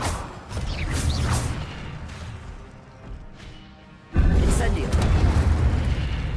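The Incendio fire spell in Hogwarts Legacy bursts out as a heavy booming whoosh that rumbles, fades, then erupts again in a loud, deep second blast.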